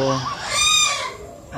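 A rooster crows once at close range, a loud rising and falling call lasting over a second, with faint background sounds after it.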